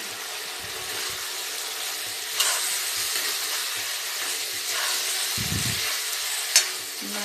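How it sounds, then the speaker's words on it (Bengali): Fried drumsticks (sajna) dropped into tomatoes frying in a pan give a steady, moderate sizzle with occasional soft clatters and a brief stir, no voices present. "এখন আমি সজনা ডাটাগুলো দিয়ে দেব"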